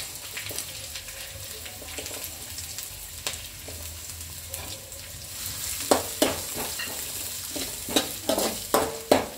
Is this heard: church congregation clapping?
no